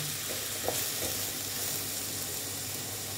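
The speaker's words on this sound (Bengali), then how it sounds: "পেঁয়াজ অল্প গ্রেট করে নিয়েছিলাম, গ্রেটার দিয়ে এটা দিয়ে দিলাম। দিয়ে আমি ভালো মতন ভেজে দেব।" Grated onion fries in a pan for aloo dum, a dense, even sizzle held at steady loudness with one faint utensil tap early on.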